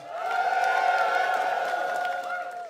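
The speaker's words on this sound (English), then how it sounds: "Now let's hear a round of applause if this is your first ever Mishkan Purim." At a Purim spiel gathering, a crowd cheers and whoops in a sustained swell, high sung-out voices holding over softer clapping before fading slightly at the end.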